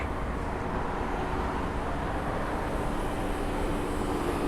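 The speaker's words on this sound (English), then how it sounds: "if you ever hear that thump, thump, thump, thump, thump in my videos, there's a good chance it's one of these helicopters doing a tour trip over the city" Tour helicopters flying over Central Park in New York City make a steady, loud, broadband drone that fills the whole stretch without a break.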